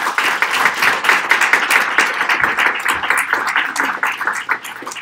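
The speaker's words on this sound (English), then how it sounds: "We'll give him a round of applause." A crowd applauding steadily at an NOPD consent decree court hearing, dense clapping at full strength throughout, close and even with no voices standing out.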